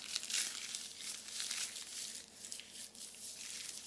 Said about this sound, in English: And now I will cover it with butter paper.